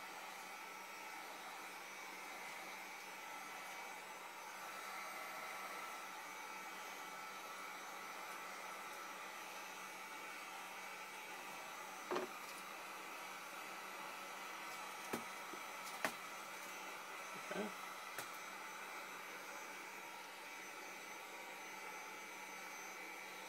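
A heat gun blows steadily while heating PVC pipe for a bow handle, a constant airy whir with a few brief clicks and knocks partway through.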